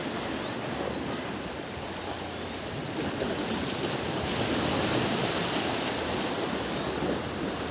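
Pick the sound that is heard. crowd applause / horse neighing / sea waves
sea waves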